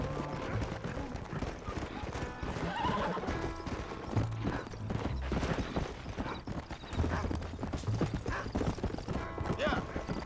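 Horses in the Red Dead Redemption game gallop with a dense, continuous pounding of hooves, punctuated by loud neighs and whinnies over a busy background.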